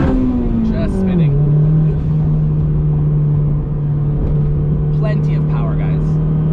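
Turbocharged K20 engine in an 8th-gen Civic Si with a PRL turbo kit pulling in second gear: a loud, close, steady engine drone whose pitch dips briefly at the shift and then holds under the driver's low rumble.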